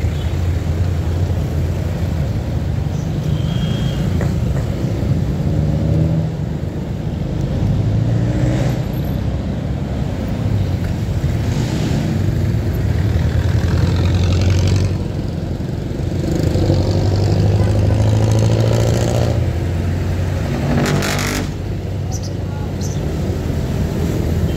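A car engine runs and idles with a steady, continuous drone throughout, and faint voices come and go over it.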